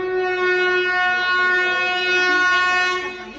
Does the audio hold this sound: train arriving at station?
yes